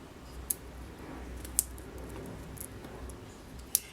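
Scissors trimming paper for a handmade card give a few sharp, separate snips spaced a second or so apart over a quiet background, with no talking.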